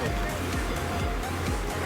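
Ocean waves and wind along a coastal beach at evening during shore squid fishing, a steady roaring wash of surf with gusty wind noise, close and constant, with someone talking over it.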